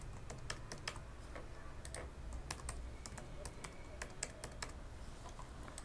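Someone types a password on a computer keyboard, a steady run of light, quick key clicks with small gaps, close but quiet over a faint room hum.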